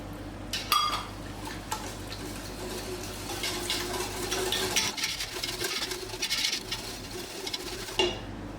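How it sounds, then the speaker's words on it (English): A cup of water poured into a pot of polenta cooking on the stove, a soft steady liquid splash and patter close by, lasting several seconds without any talk. "I'm going to add a whole cup of water extra."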